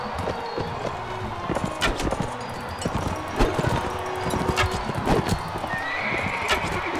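Horse hooves gallop in the medieval combat game Mount & Blade Warband, a fast, steady clip-clop with occasional whinnies over busy battle noise.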